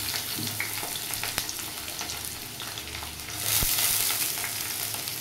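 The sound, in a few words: cut potatoes added to frying pan, sizzling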